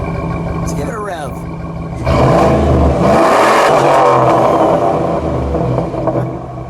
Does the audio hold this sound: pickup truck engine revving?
yes